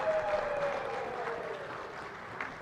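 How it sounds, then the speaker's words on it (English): Delegates give a round of applause at the 44th Ordinary Summit of SADC Heads of State, a soft, diffuse clapping from a large hall that holds steady and slowly fades. "Once more, another round of applause for the incoming SADC"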